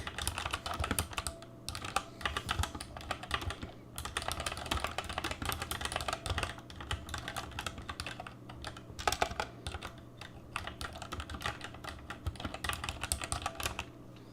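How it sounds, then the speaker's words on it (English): Rapid typing on a computer keyboard, close and crisp, with irregular bursts of key clicks and brief pauses, heard alone without talk throughout. "there's ASMR keyboard"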